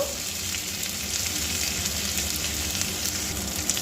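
Steady, loud sizzling of ginger paste and turmeric spices frying in a hot pan, a constant crackling hiss with no pauses throughout.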